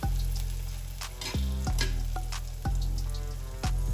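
Pancake batter frying in scorching hot oil in a pan, a steady close sizzle with bursts of crackle and spatter recurring about once a second, no voices.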